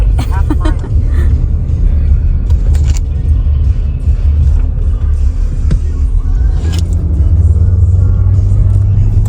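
Steady low engine rumble and road noise from inside a moving car, with people chatting and laughing over it throughout.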